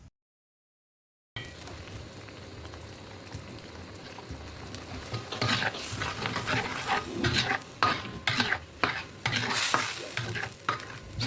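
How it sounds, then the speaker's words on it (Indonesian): A Balinese spice sauce for tofu and eggs is stirred in a hot pan, a sizzle and bubbling that grows louder and busier, with repeated scraping strokes of the spoon toward the end and no talking. "Diaduk-aduk supaya bumbu larut dan tercampur merata."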